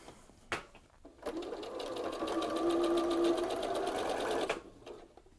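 A sewing machine runs steadily for about three seconds while stitching a curved quilt seam for a double wedding ring quilt, its motor whirring close and clear after a brief clunk, with no talking.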